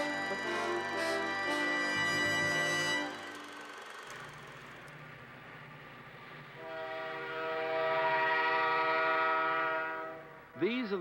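A long coal-laden freight train, about 2.5 kilometres and 11,000 tons bound for Japan, rumbles past with loud sustained horn blasts, a quieter rolling stretch of wagon noise, then another long horn blast swelling near the end.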